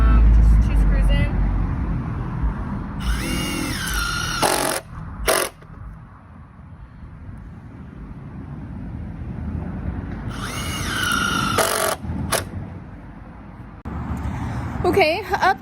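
Power drill driving screws into 2x4 deck supports, two short bursts of whirring around four and eleven seconds, each with a quick rising whine, set against outdoor background noise.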